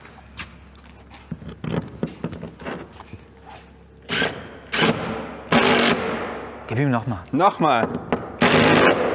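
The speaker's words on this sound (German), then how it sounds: "Jetzt nacheinander wird erstmal ein Griff reingetackert." A power drill drives a screw to fix a climbing hold onto a bouldering wall, several loud short whirring bursts close by, with people talking between them.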